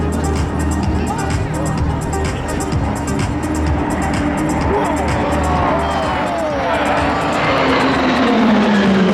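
RAAF Roulettes aerobatic planes drone overhead at an airshow, a steady engine roar building toward the end as they pass, with a commentator talking and crowd noise beneath.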